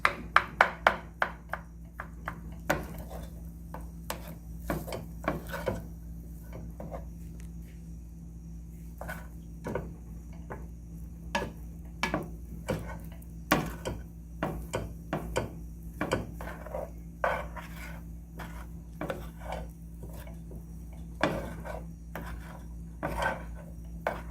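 Spatula or spoon repeatedly clanking and scraping against a pan while chunks of rice are broken apart for chickpea and chia seed fried rice, with irregular close taps over a steady low background hum.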